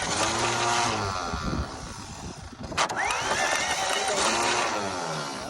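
A 1940 Chevy truck engine cranking on ignition: the starter turns over rhythmically and labors, pauses briefly, then cranks again, close by and loud, with a person's voice in the background.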